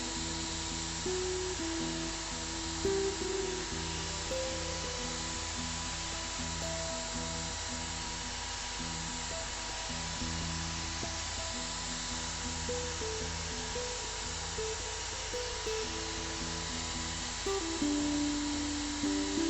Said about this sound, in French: je vais le polir avec une petite frotte